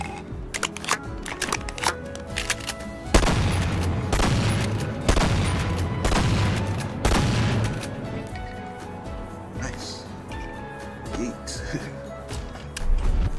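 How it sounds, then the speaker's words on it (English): Half-Life shotgun firing in a Bonelab VR mod, several heavy booming blasts in a burst from about three to eight seconds, loud and close, with quieter clicks and handling noises before and after. "It's the Half-Life shotgun."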